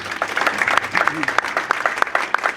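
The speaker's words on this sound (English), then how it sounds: "Please give them a round of applause." An audience applauds panelists at a commercial real estate tour event in Hoffman Estates, a steady patter of many hands clapping at moderate volume throughout, with a faint voice underneath.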